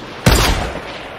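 A single sharp shot from a purple pistol in Fortnite Battle Royale, loud and close, with a short decaying tail and no talk over it.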